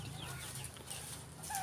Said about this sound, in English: let's check in the chicken house